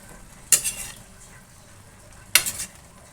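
Pork and laing frying in a pan, stirred in two short scraping bursts with sizzling between, close and fairly quiet, no talk.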